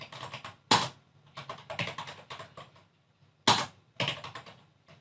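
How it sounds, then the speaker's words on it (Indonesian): Keys clattering on a computer keyboard while a command is typed during a Kali Linux USB install, in quick bursts of close keystrokes separated by short pauses, with no talking. "Setelah itu ketikkan komen berikut."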